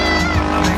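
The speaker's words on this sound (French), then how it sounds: "La machine qui est toujours en fonction. Le moteur qui tourne" A dirt bike engine revs hard and steady during a hill climb, loud and close with a strained, continuous drone that rises and falls slightly.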